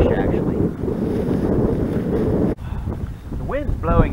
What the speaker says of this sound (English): The wind's blowing in my direction.